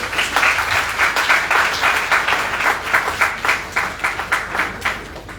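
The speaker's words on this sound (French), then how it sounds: "je vous demande d'acclamer sous un tonnerre d'applaudissements monsieur Amadou Sidibé" Audience applause at a formal Rotaract and Interact ceremony in Mali, a dense, steady wash of many hands clapping that continues throughout and softens slightly toward the end.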